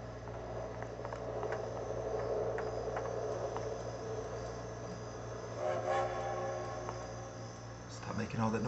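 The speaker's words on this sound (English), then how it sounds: "Stop making all that noise, train." A steady video game train rumble with grinding, clanking wagon noise runs throughout, under a person talking, and swells briefly near the end.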